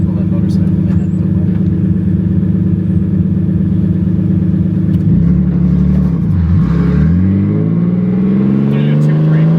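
A turbo E36 car engine on a dyno drones at a steady mid pitch, then the revs rise and fall in a couple of quick pulls, loud and close.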